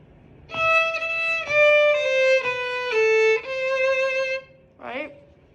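A violin plays a short measured phrase from measure 13 with a low second-finger C, several bowed notes in steady succession, clear and close, ending with a brief sliding tone.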